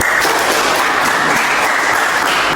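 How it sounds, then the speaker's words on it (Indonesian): Brief burst of applause from a class during a teaching session, dense and steady clapping with no talk. "beri tepuk tangan"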